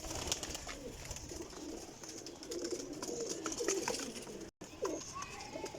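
Soft, low cooing of pigeons repeats faintly amid light outdoor background noise and occasional chirps.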